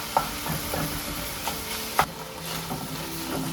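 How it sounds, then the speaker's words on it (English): Ground meat for a bolognese sauce sizzles steadily in a pan over medium heat, with a soft continuous frying hiss broken by a few sharp clicks of stirring. "It's sizzling here."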